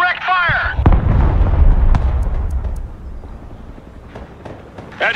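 Artillery fires in the Broken Arrow war game, with several deep booming blasts rolling out loudly under shouted radio chatter and voices, the rumble fading between shots.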